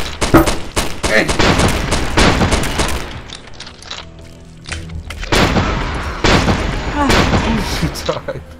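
Shotgun blasts in the horror game Primal Fears, several loud booming shots in quick bursts at the start and again later, with a quieter gap between them and people talking over the gunfire.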